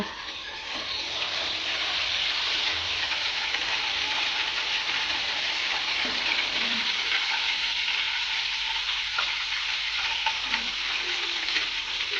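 Coral fish frying in a pan of hot oil, a steady dense sizzle and crackle that runs unbroken and loud from start to finish with no voices over it.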